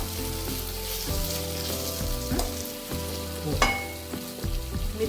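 A sabudana mixture is sautéed in a pan, with a steady soft sizzle of frying and intermittent scraping stir strokes heard close by and no talk.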